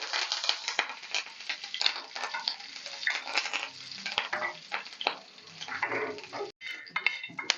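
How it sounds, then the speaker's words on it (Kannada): Mustard seeds and curry leaves crackle and pop in hot tempering oil in a pan, with sharp, irregular spits and stirring clatter close by. "ಜಸ್ಟ್ ಒಂದೆರಡು ಸಾಸಿವೆ ಸಿಡಿಸಿ ಕರಿಬೇವು ಸಿಡಿಸ್ಕೊಳೋದು"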